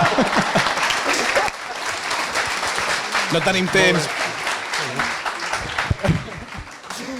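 Studio audience applause at a live show, a loud, sustained roar of clapping running through the whole stretch, with voices speaking over it in places.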